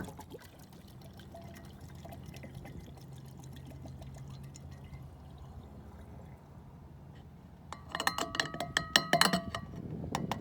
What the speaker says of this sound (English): we're going to go ahead and put this in the gas tank